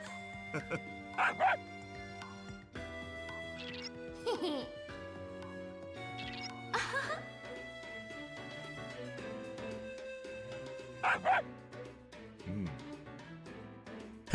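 A dog barks in the video game Persona Q2: short yappy barks and whimpers come in four spaced bursts over continuous game music.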